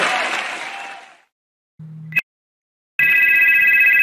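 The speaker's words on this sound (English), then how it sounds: "The phone rings." A telephone on a call-in radio show rings abruptly after a short silence, a steady bright trill that runs to the end, following a fading wash of crowd-like noise.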